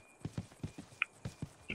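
Horse hooves clip-clop in the online video game RIFT, a steady walking rhythm of soft close hoof knocks with a faint chime partway through, no talk.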